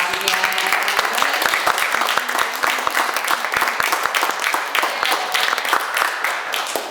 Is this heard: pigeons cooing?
no